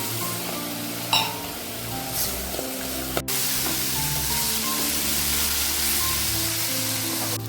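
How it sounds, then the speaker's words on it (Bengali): Water poured into a pan of sizzling rui fish curry, a steady frying hiss and spattering that swells into continuous loud sizzle after a brief sharp splash, close up with no talking. "পরিমাণ মতো জল দিয়ে দিল।"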